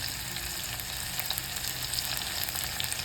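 Onion fries in a pan as a masala gravy for a pigeon-pea curry is being cooked, a continuous close sizzle with small crackles and stirring, and no voices.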